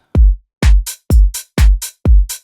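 A punchy electronic kick drum alternates with crisp hi-hat hits in a steady, repeating beat, loud and dry with no voices.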